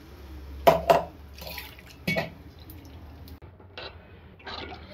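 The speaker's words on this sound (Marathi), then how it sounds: "आता थोडं आपण मिक्सरचे भांड्यातला मसाला धुवून ते पाणी आपण त्यामध्ये थोडं" Water rinsed from a mixer jar is poured into a pan of brinjal curry, giving a soft splashing trickle alongside a few sharp clanks of the jar against metal. The kitchen is otherwise quiet, with no talking.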